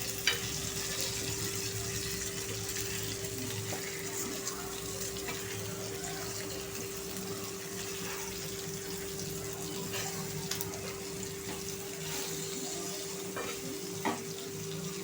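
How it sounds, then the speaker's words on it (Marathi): Halwa fish pieces shallow-frying in a pan give a steady crackling sizzle with occasional sharp pops, under a constant low hum, heard alone with no talk. "आता हे देखील फिश आपण व्यवस्थित फ्राय करून घेऊया।"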